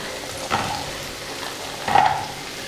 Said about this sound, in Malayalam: ജസ്റ്റ് ഒന്ന് 2 മിനിറ്റ് ഒന്ന് മീഡിയം ഫ്ലെയിമിലിട്ടൊന്ന് വഴറ്റി കൊടുക്കുക.